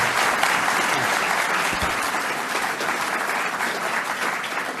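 Sustained, dense applause from a large audience at a Sydney speaking event, steady and loud throughout with no voices over it.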